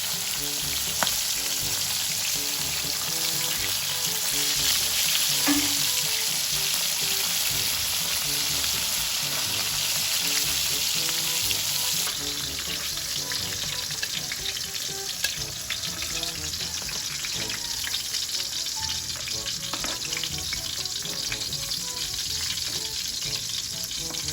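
Continuous close sizzling of fish frying in a pan for breakfast, a bright oily hiss with scattered pops that softens slightly partway through as the fish turns a little crispy.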